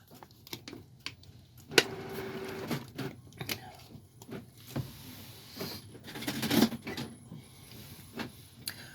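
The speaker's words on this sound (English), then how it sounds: "The printer." A printer printing onto canvas runs with mechanical whirs, clicks and short feeds, irregular and moderately quiet, with small thumps as the material moves through.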